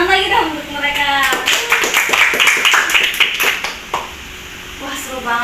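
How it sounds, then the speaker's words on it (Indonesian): Audience claps for guest stars at a dance exhibition event, a run of sharp individual hand claps at moderate level overlapping a person talking before and after. "Tepuk tangan lagi dong untuk mereka."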